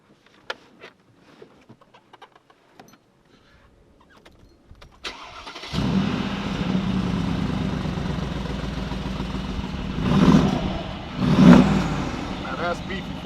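A Mercedes G63 G-Wagon AMG bi-turbo V8 cranks and fires up after a quiet stretch of faint clicks, settling into a deep loud idle, then two sharp throttle blips roar out close by.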